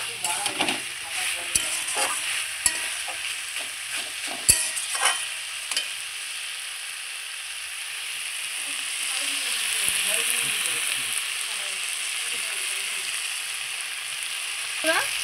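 Mixed vegetables frying in a pan for a vegetarian curry, a bright close sizzle with scraping spatula strokes and clatter early, settling into steady crackling.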